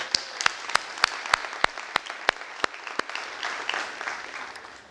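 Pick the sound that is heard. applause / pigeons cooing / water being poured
applause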